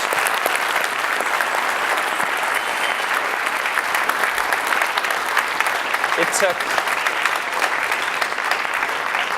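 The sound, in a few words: audience applause for the panel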